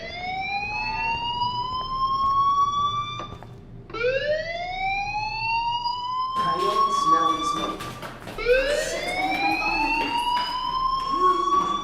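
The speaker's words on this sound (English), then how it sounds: "Hey, do you hear that fire alarm?" A fire alarm wails in repeated rising sweeps, each tone climbing then restarting, loud and continuous through the stretch, with clattering noises mixed in during the latter half.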